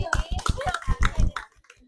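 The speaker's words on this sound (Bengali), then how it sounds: "হাততালি হবে।" A small group claps in a quick, uneven burst of hand claps during a women's village spinning-wheel game, close and lively, fading out after about a second and a half with a voice mixed in.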